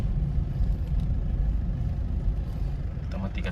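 A Toyota Innova diesel engine with a check-engine fault, held at about 2500 rpm, gives a steady low rumbling drone throughout, close by, while someone speaks over it.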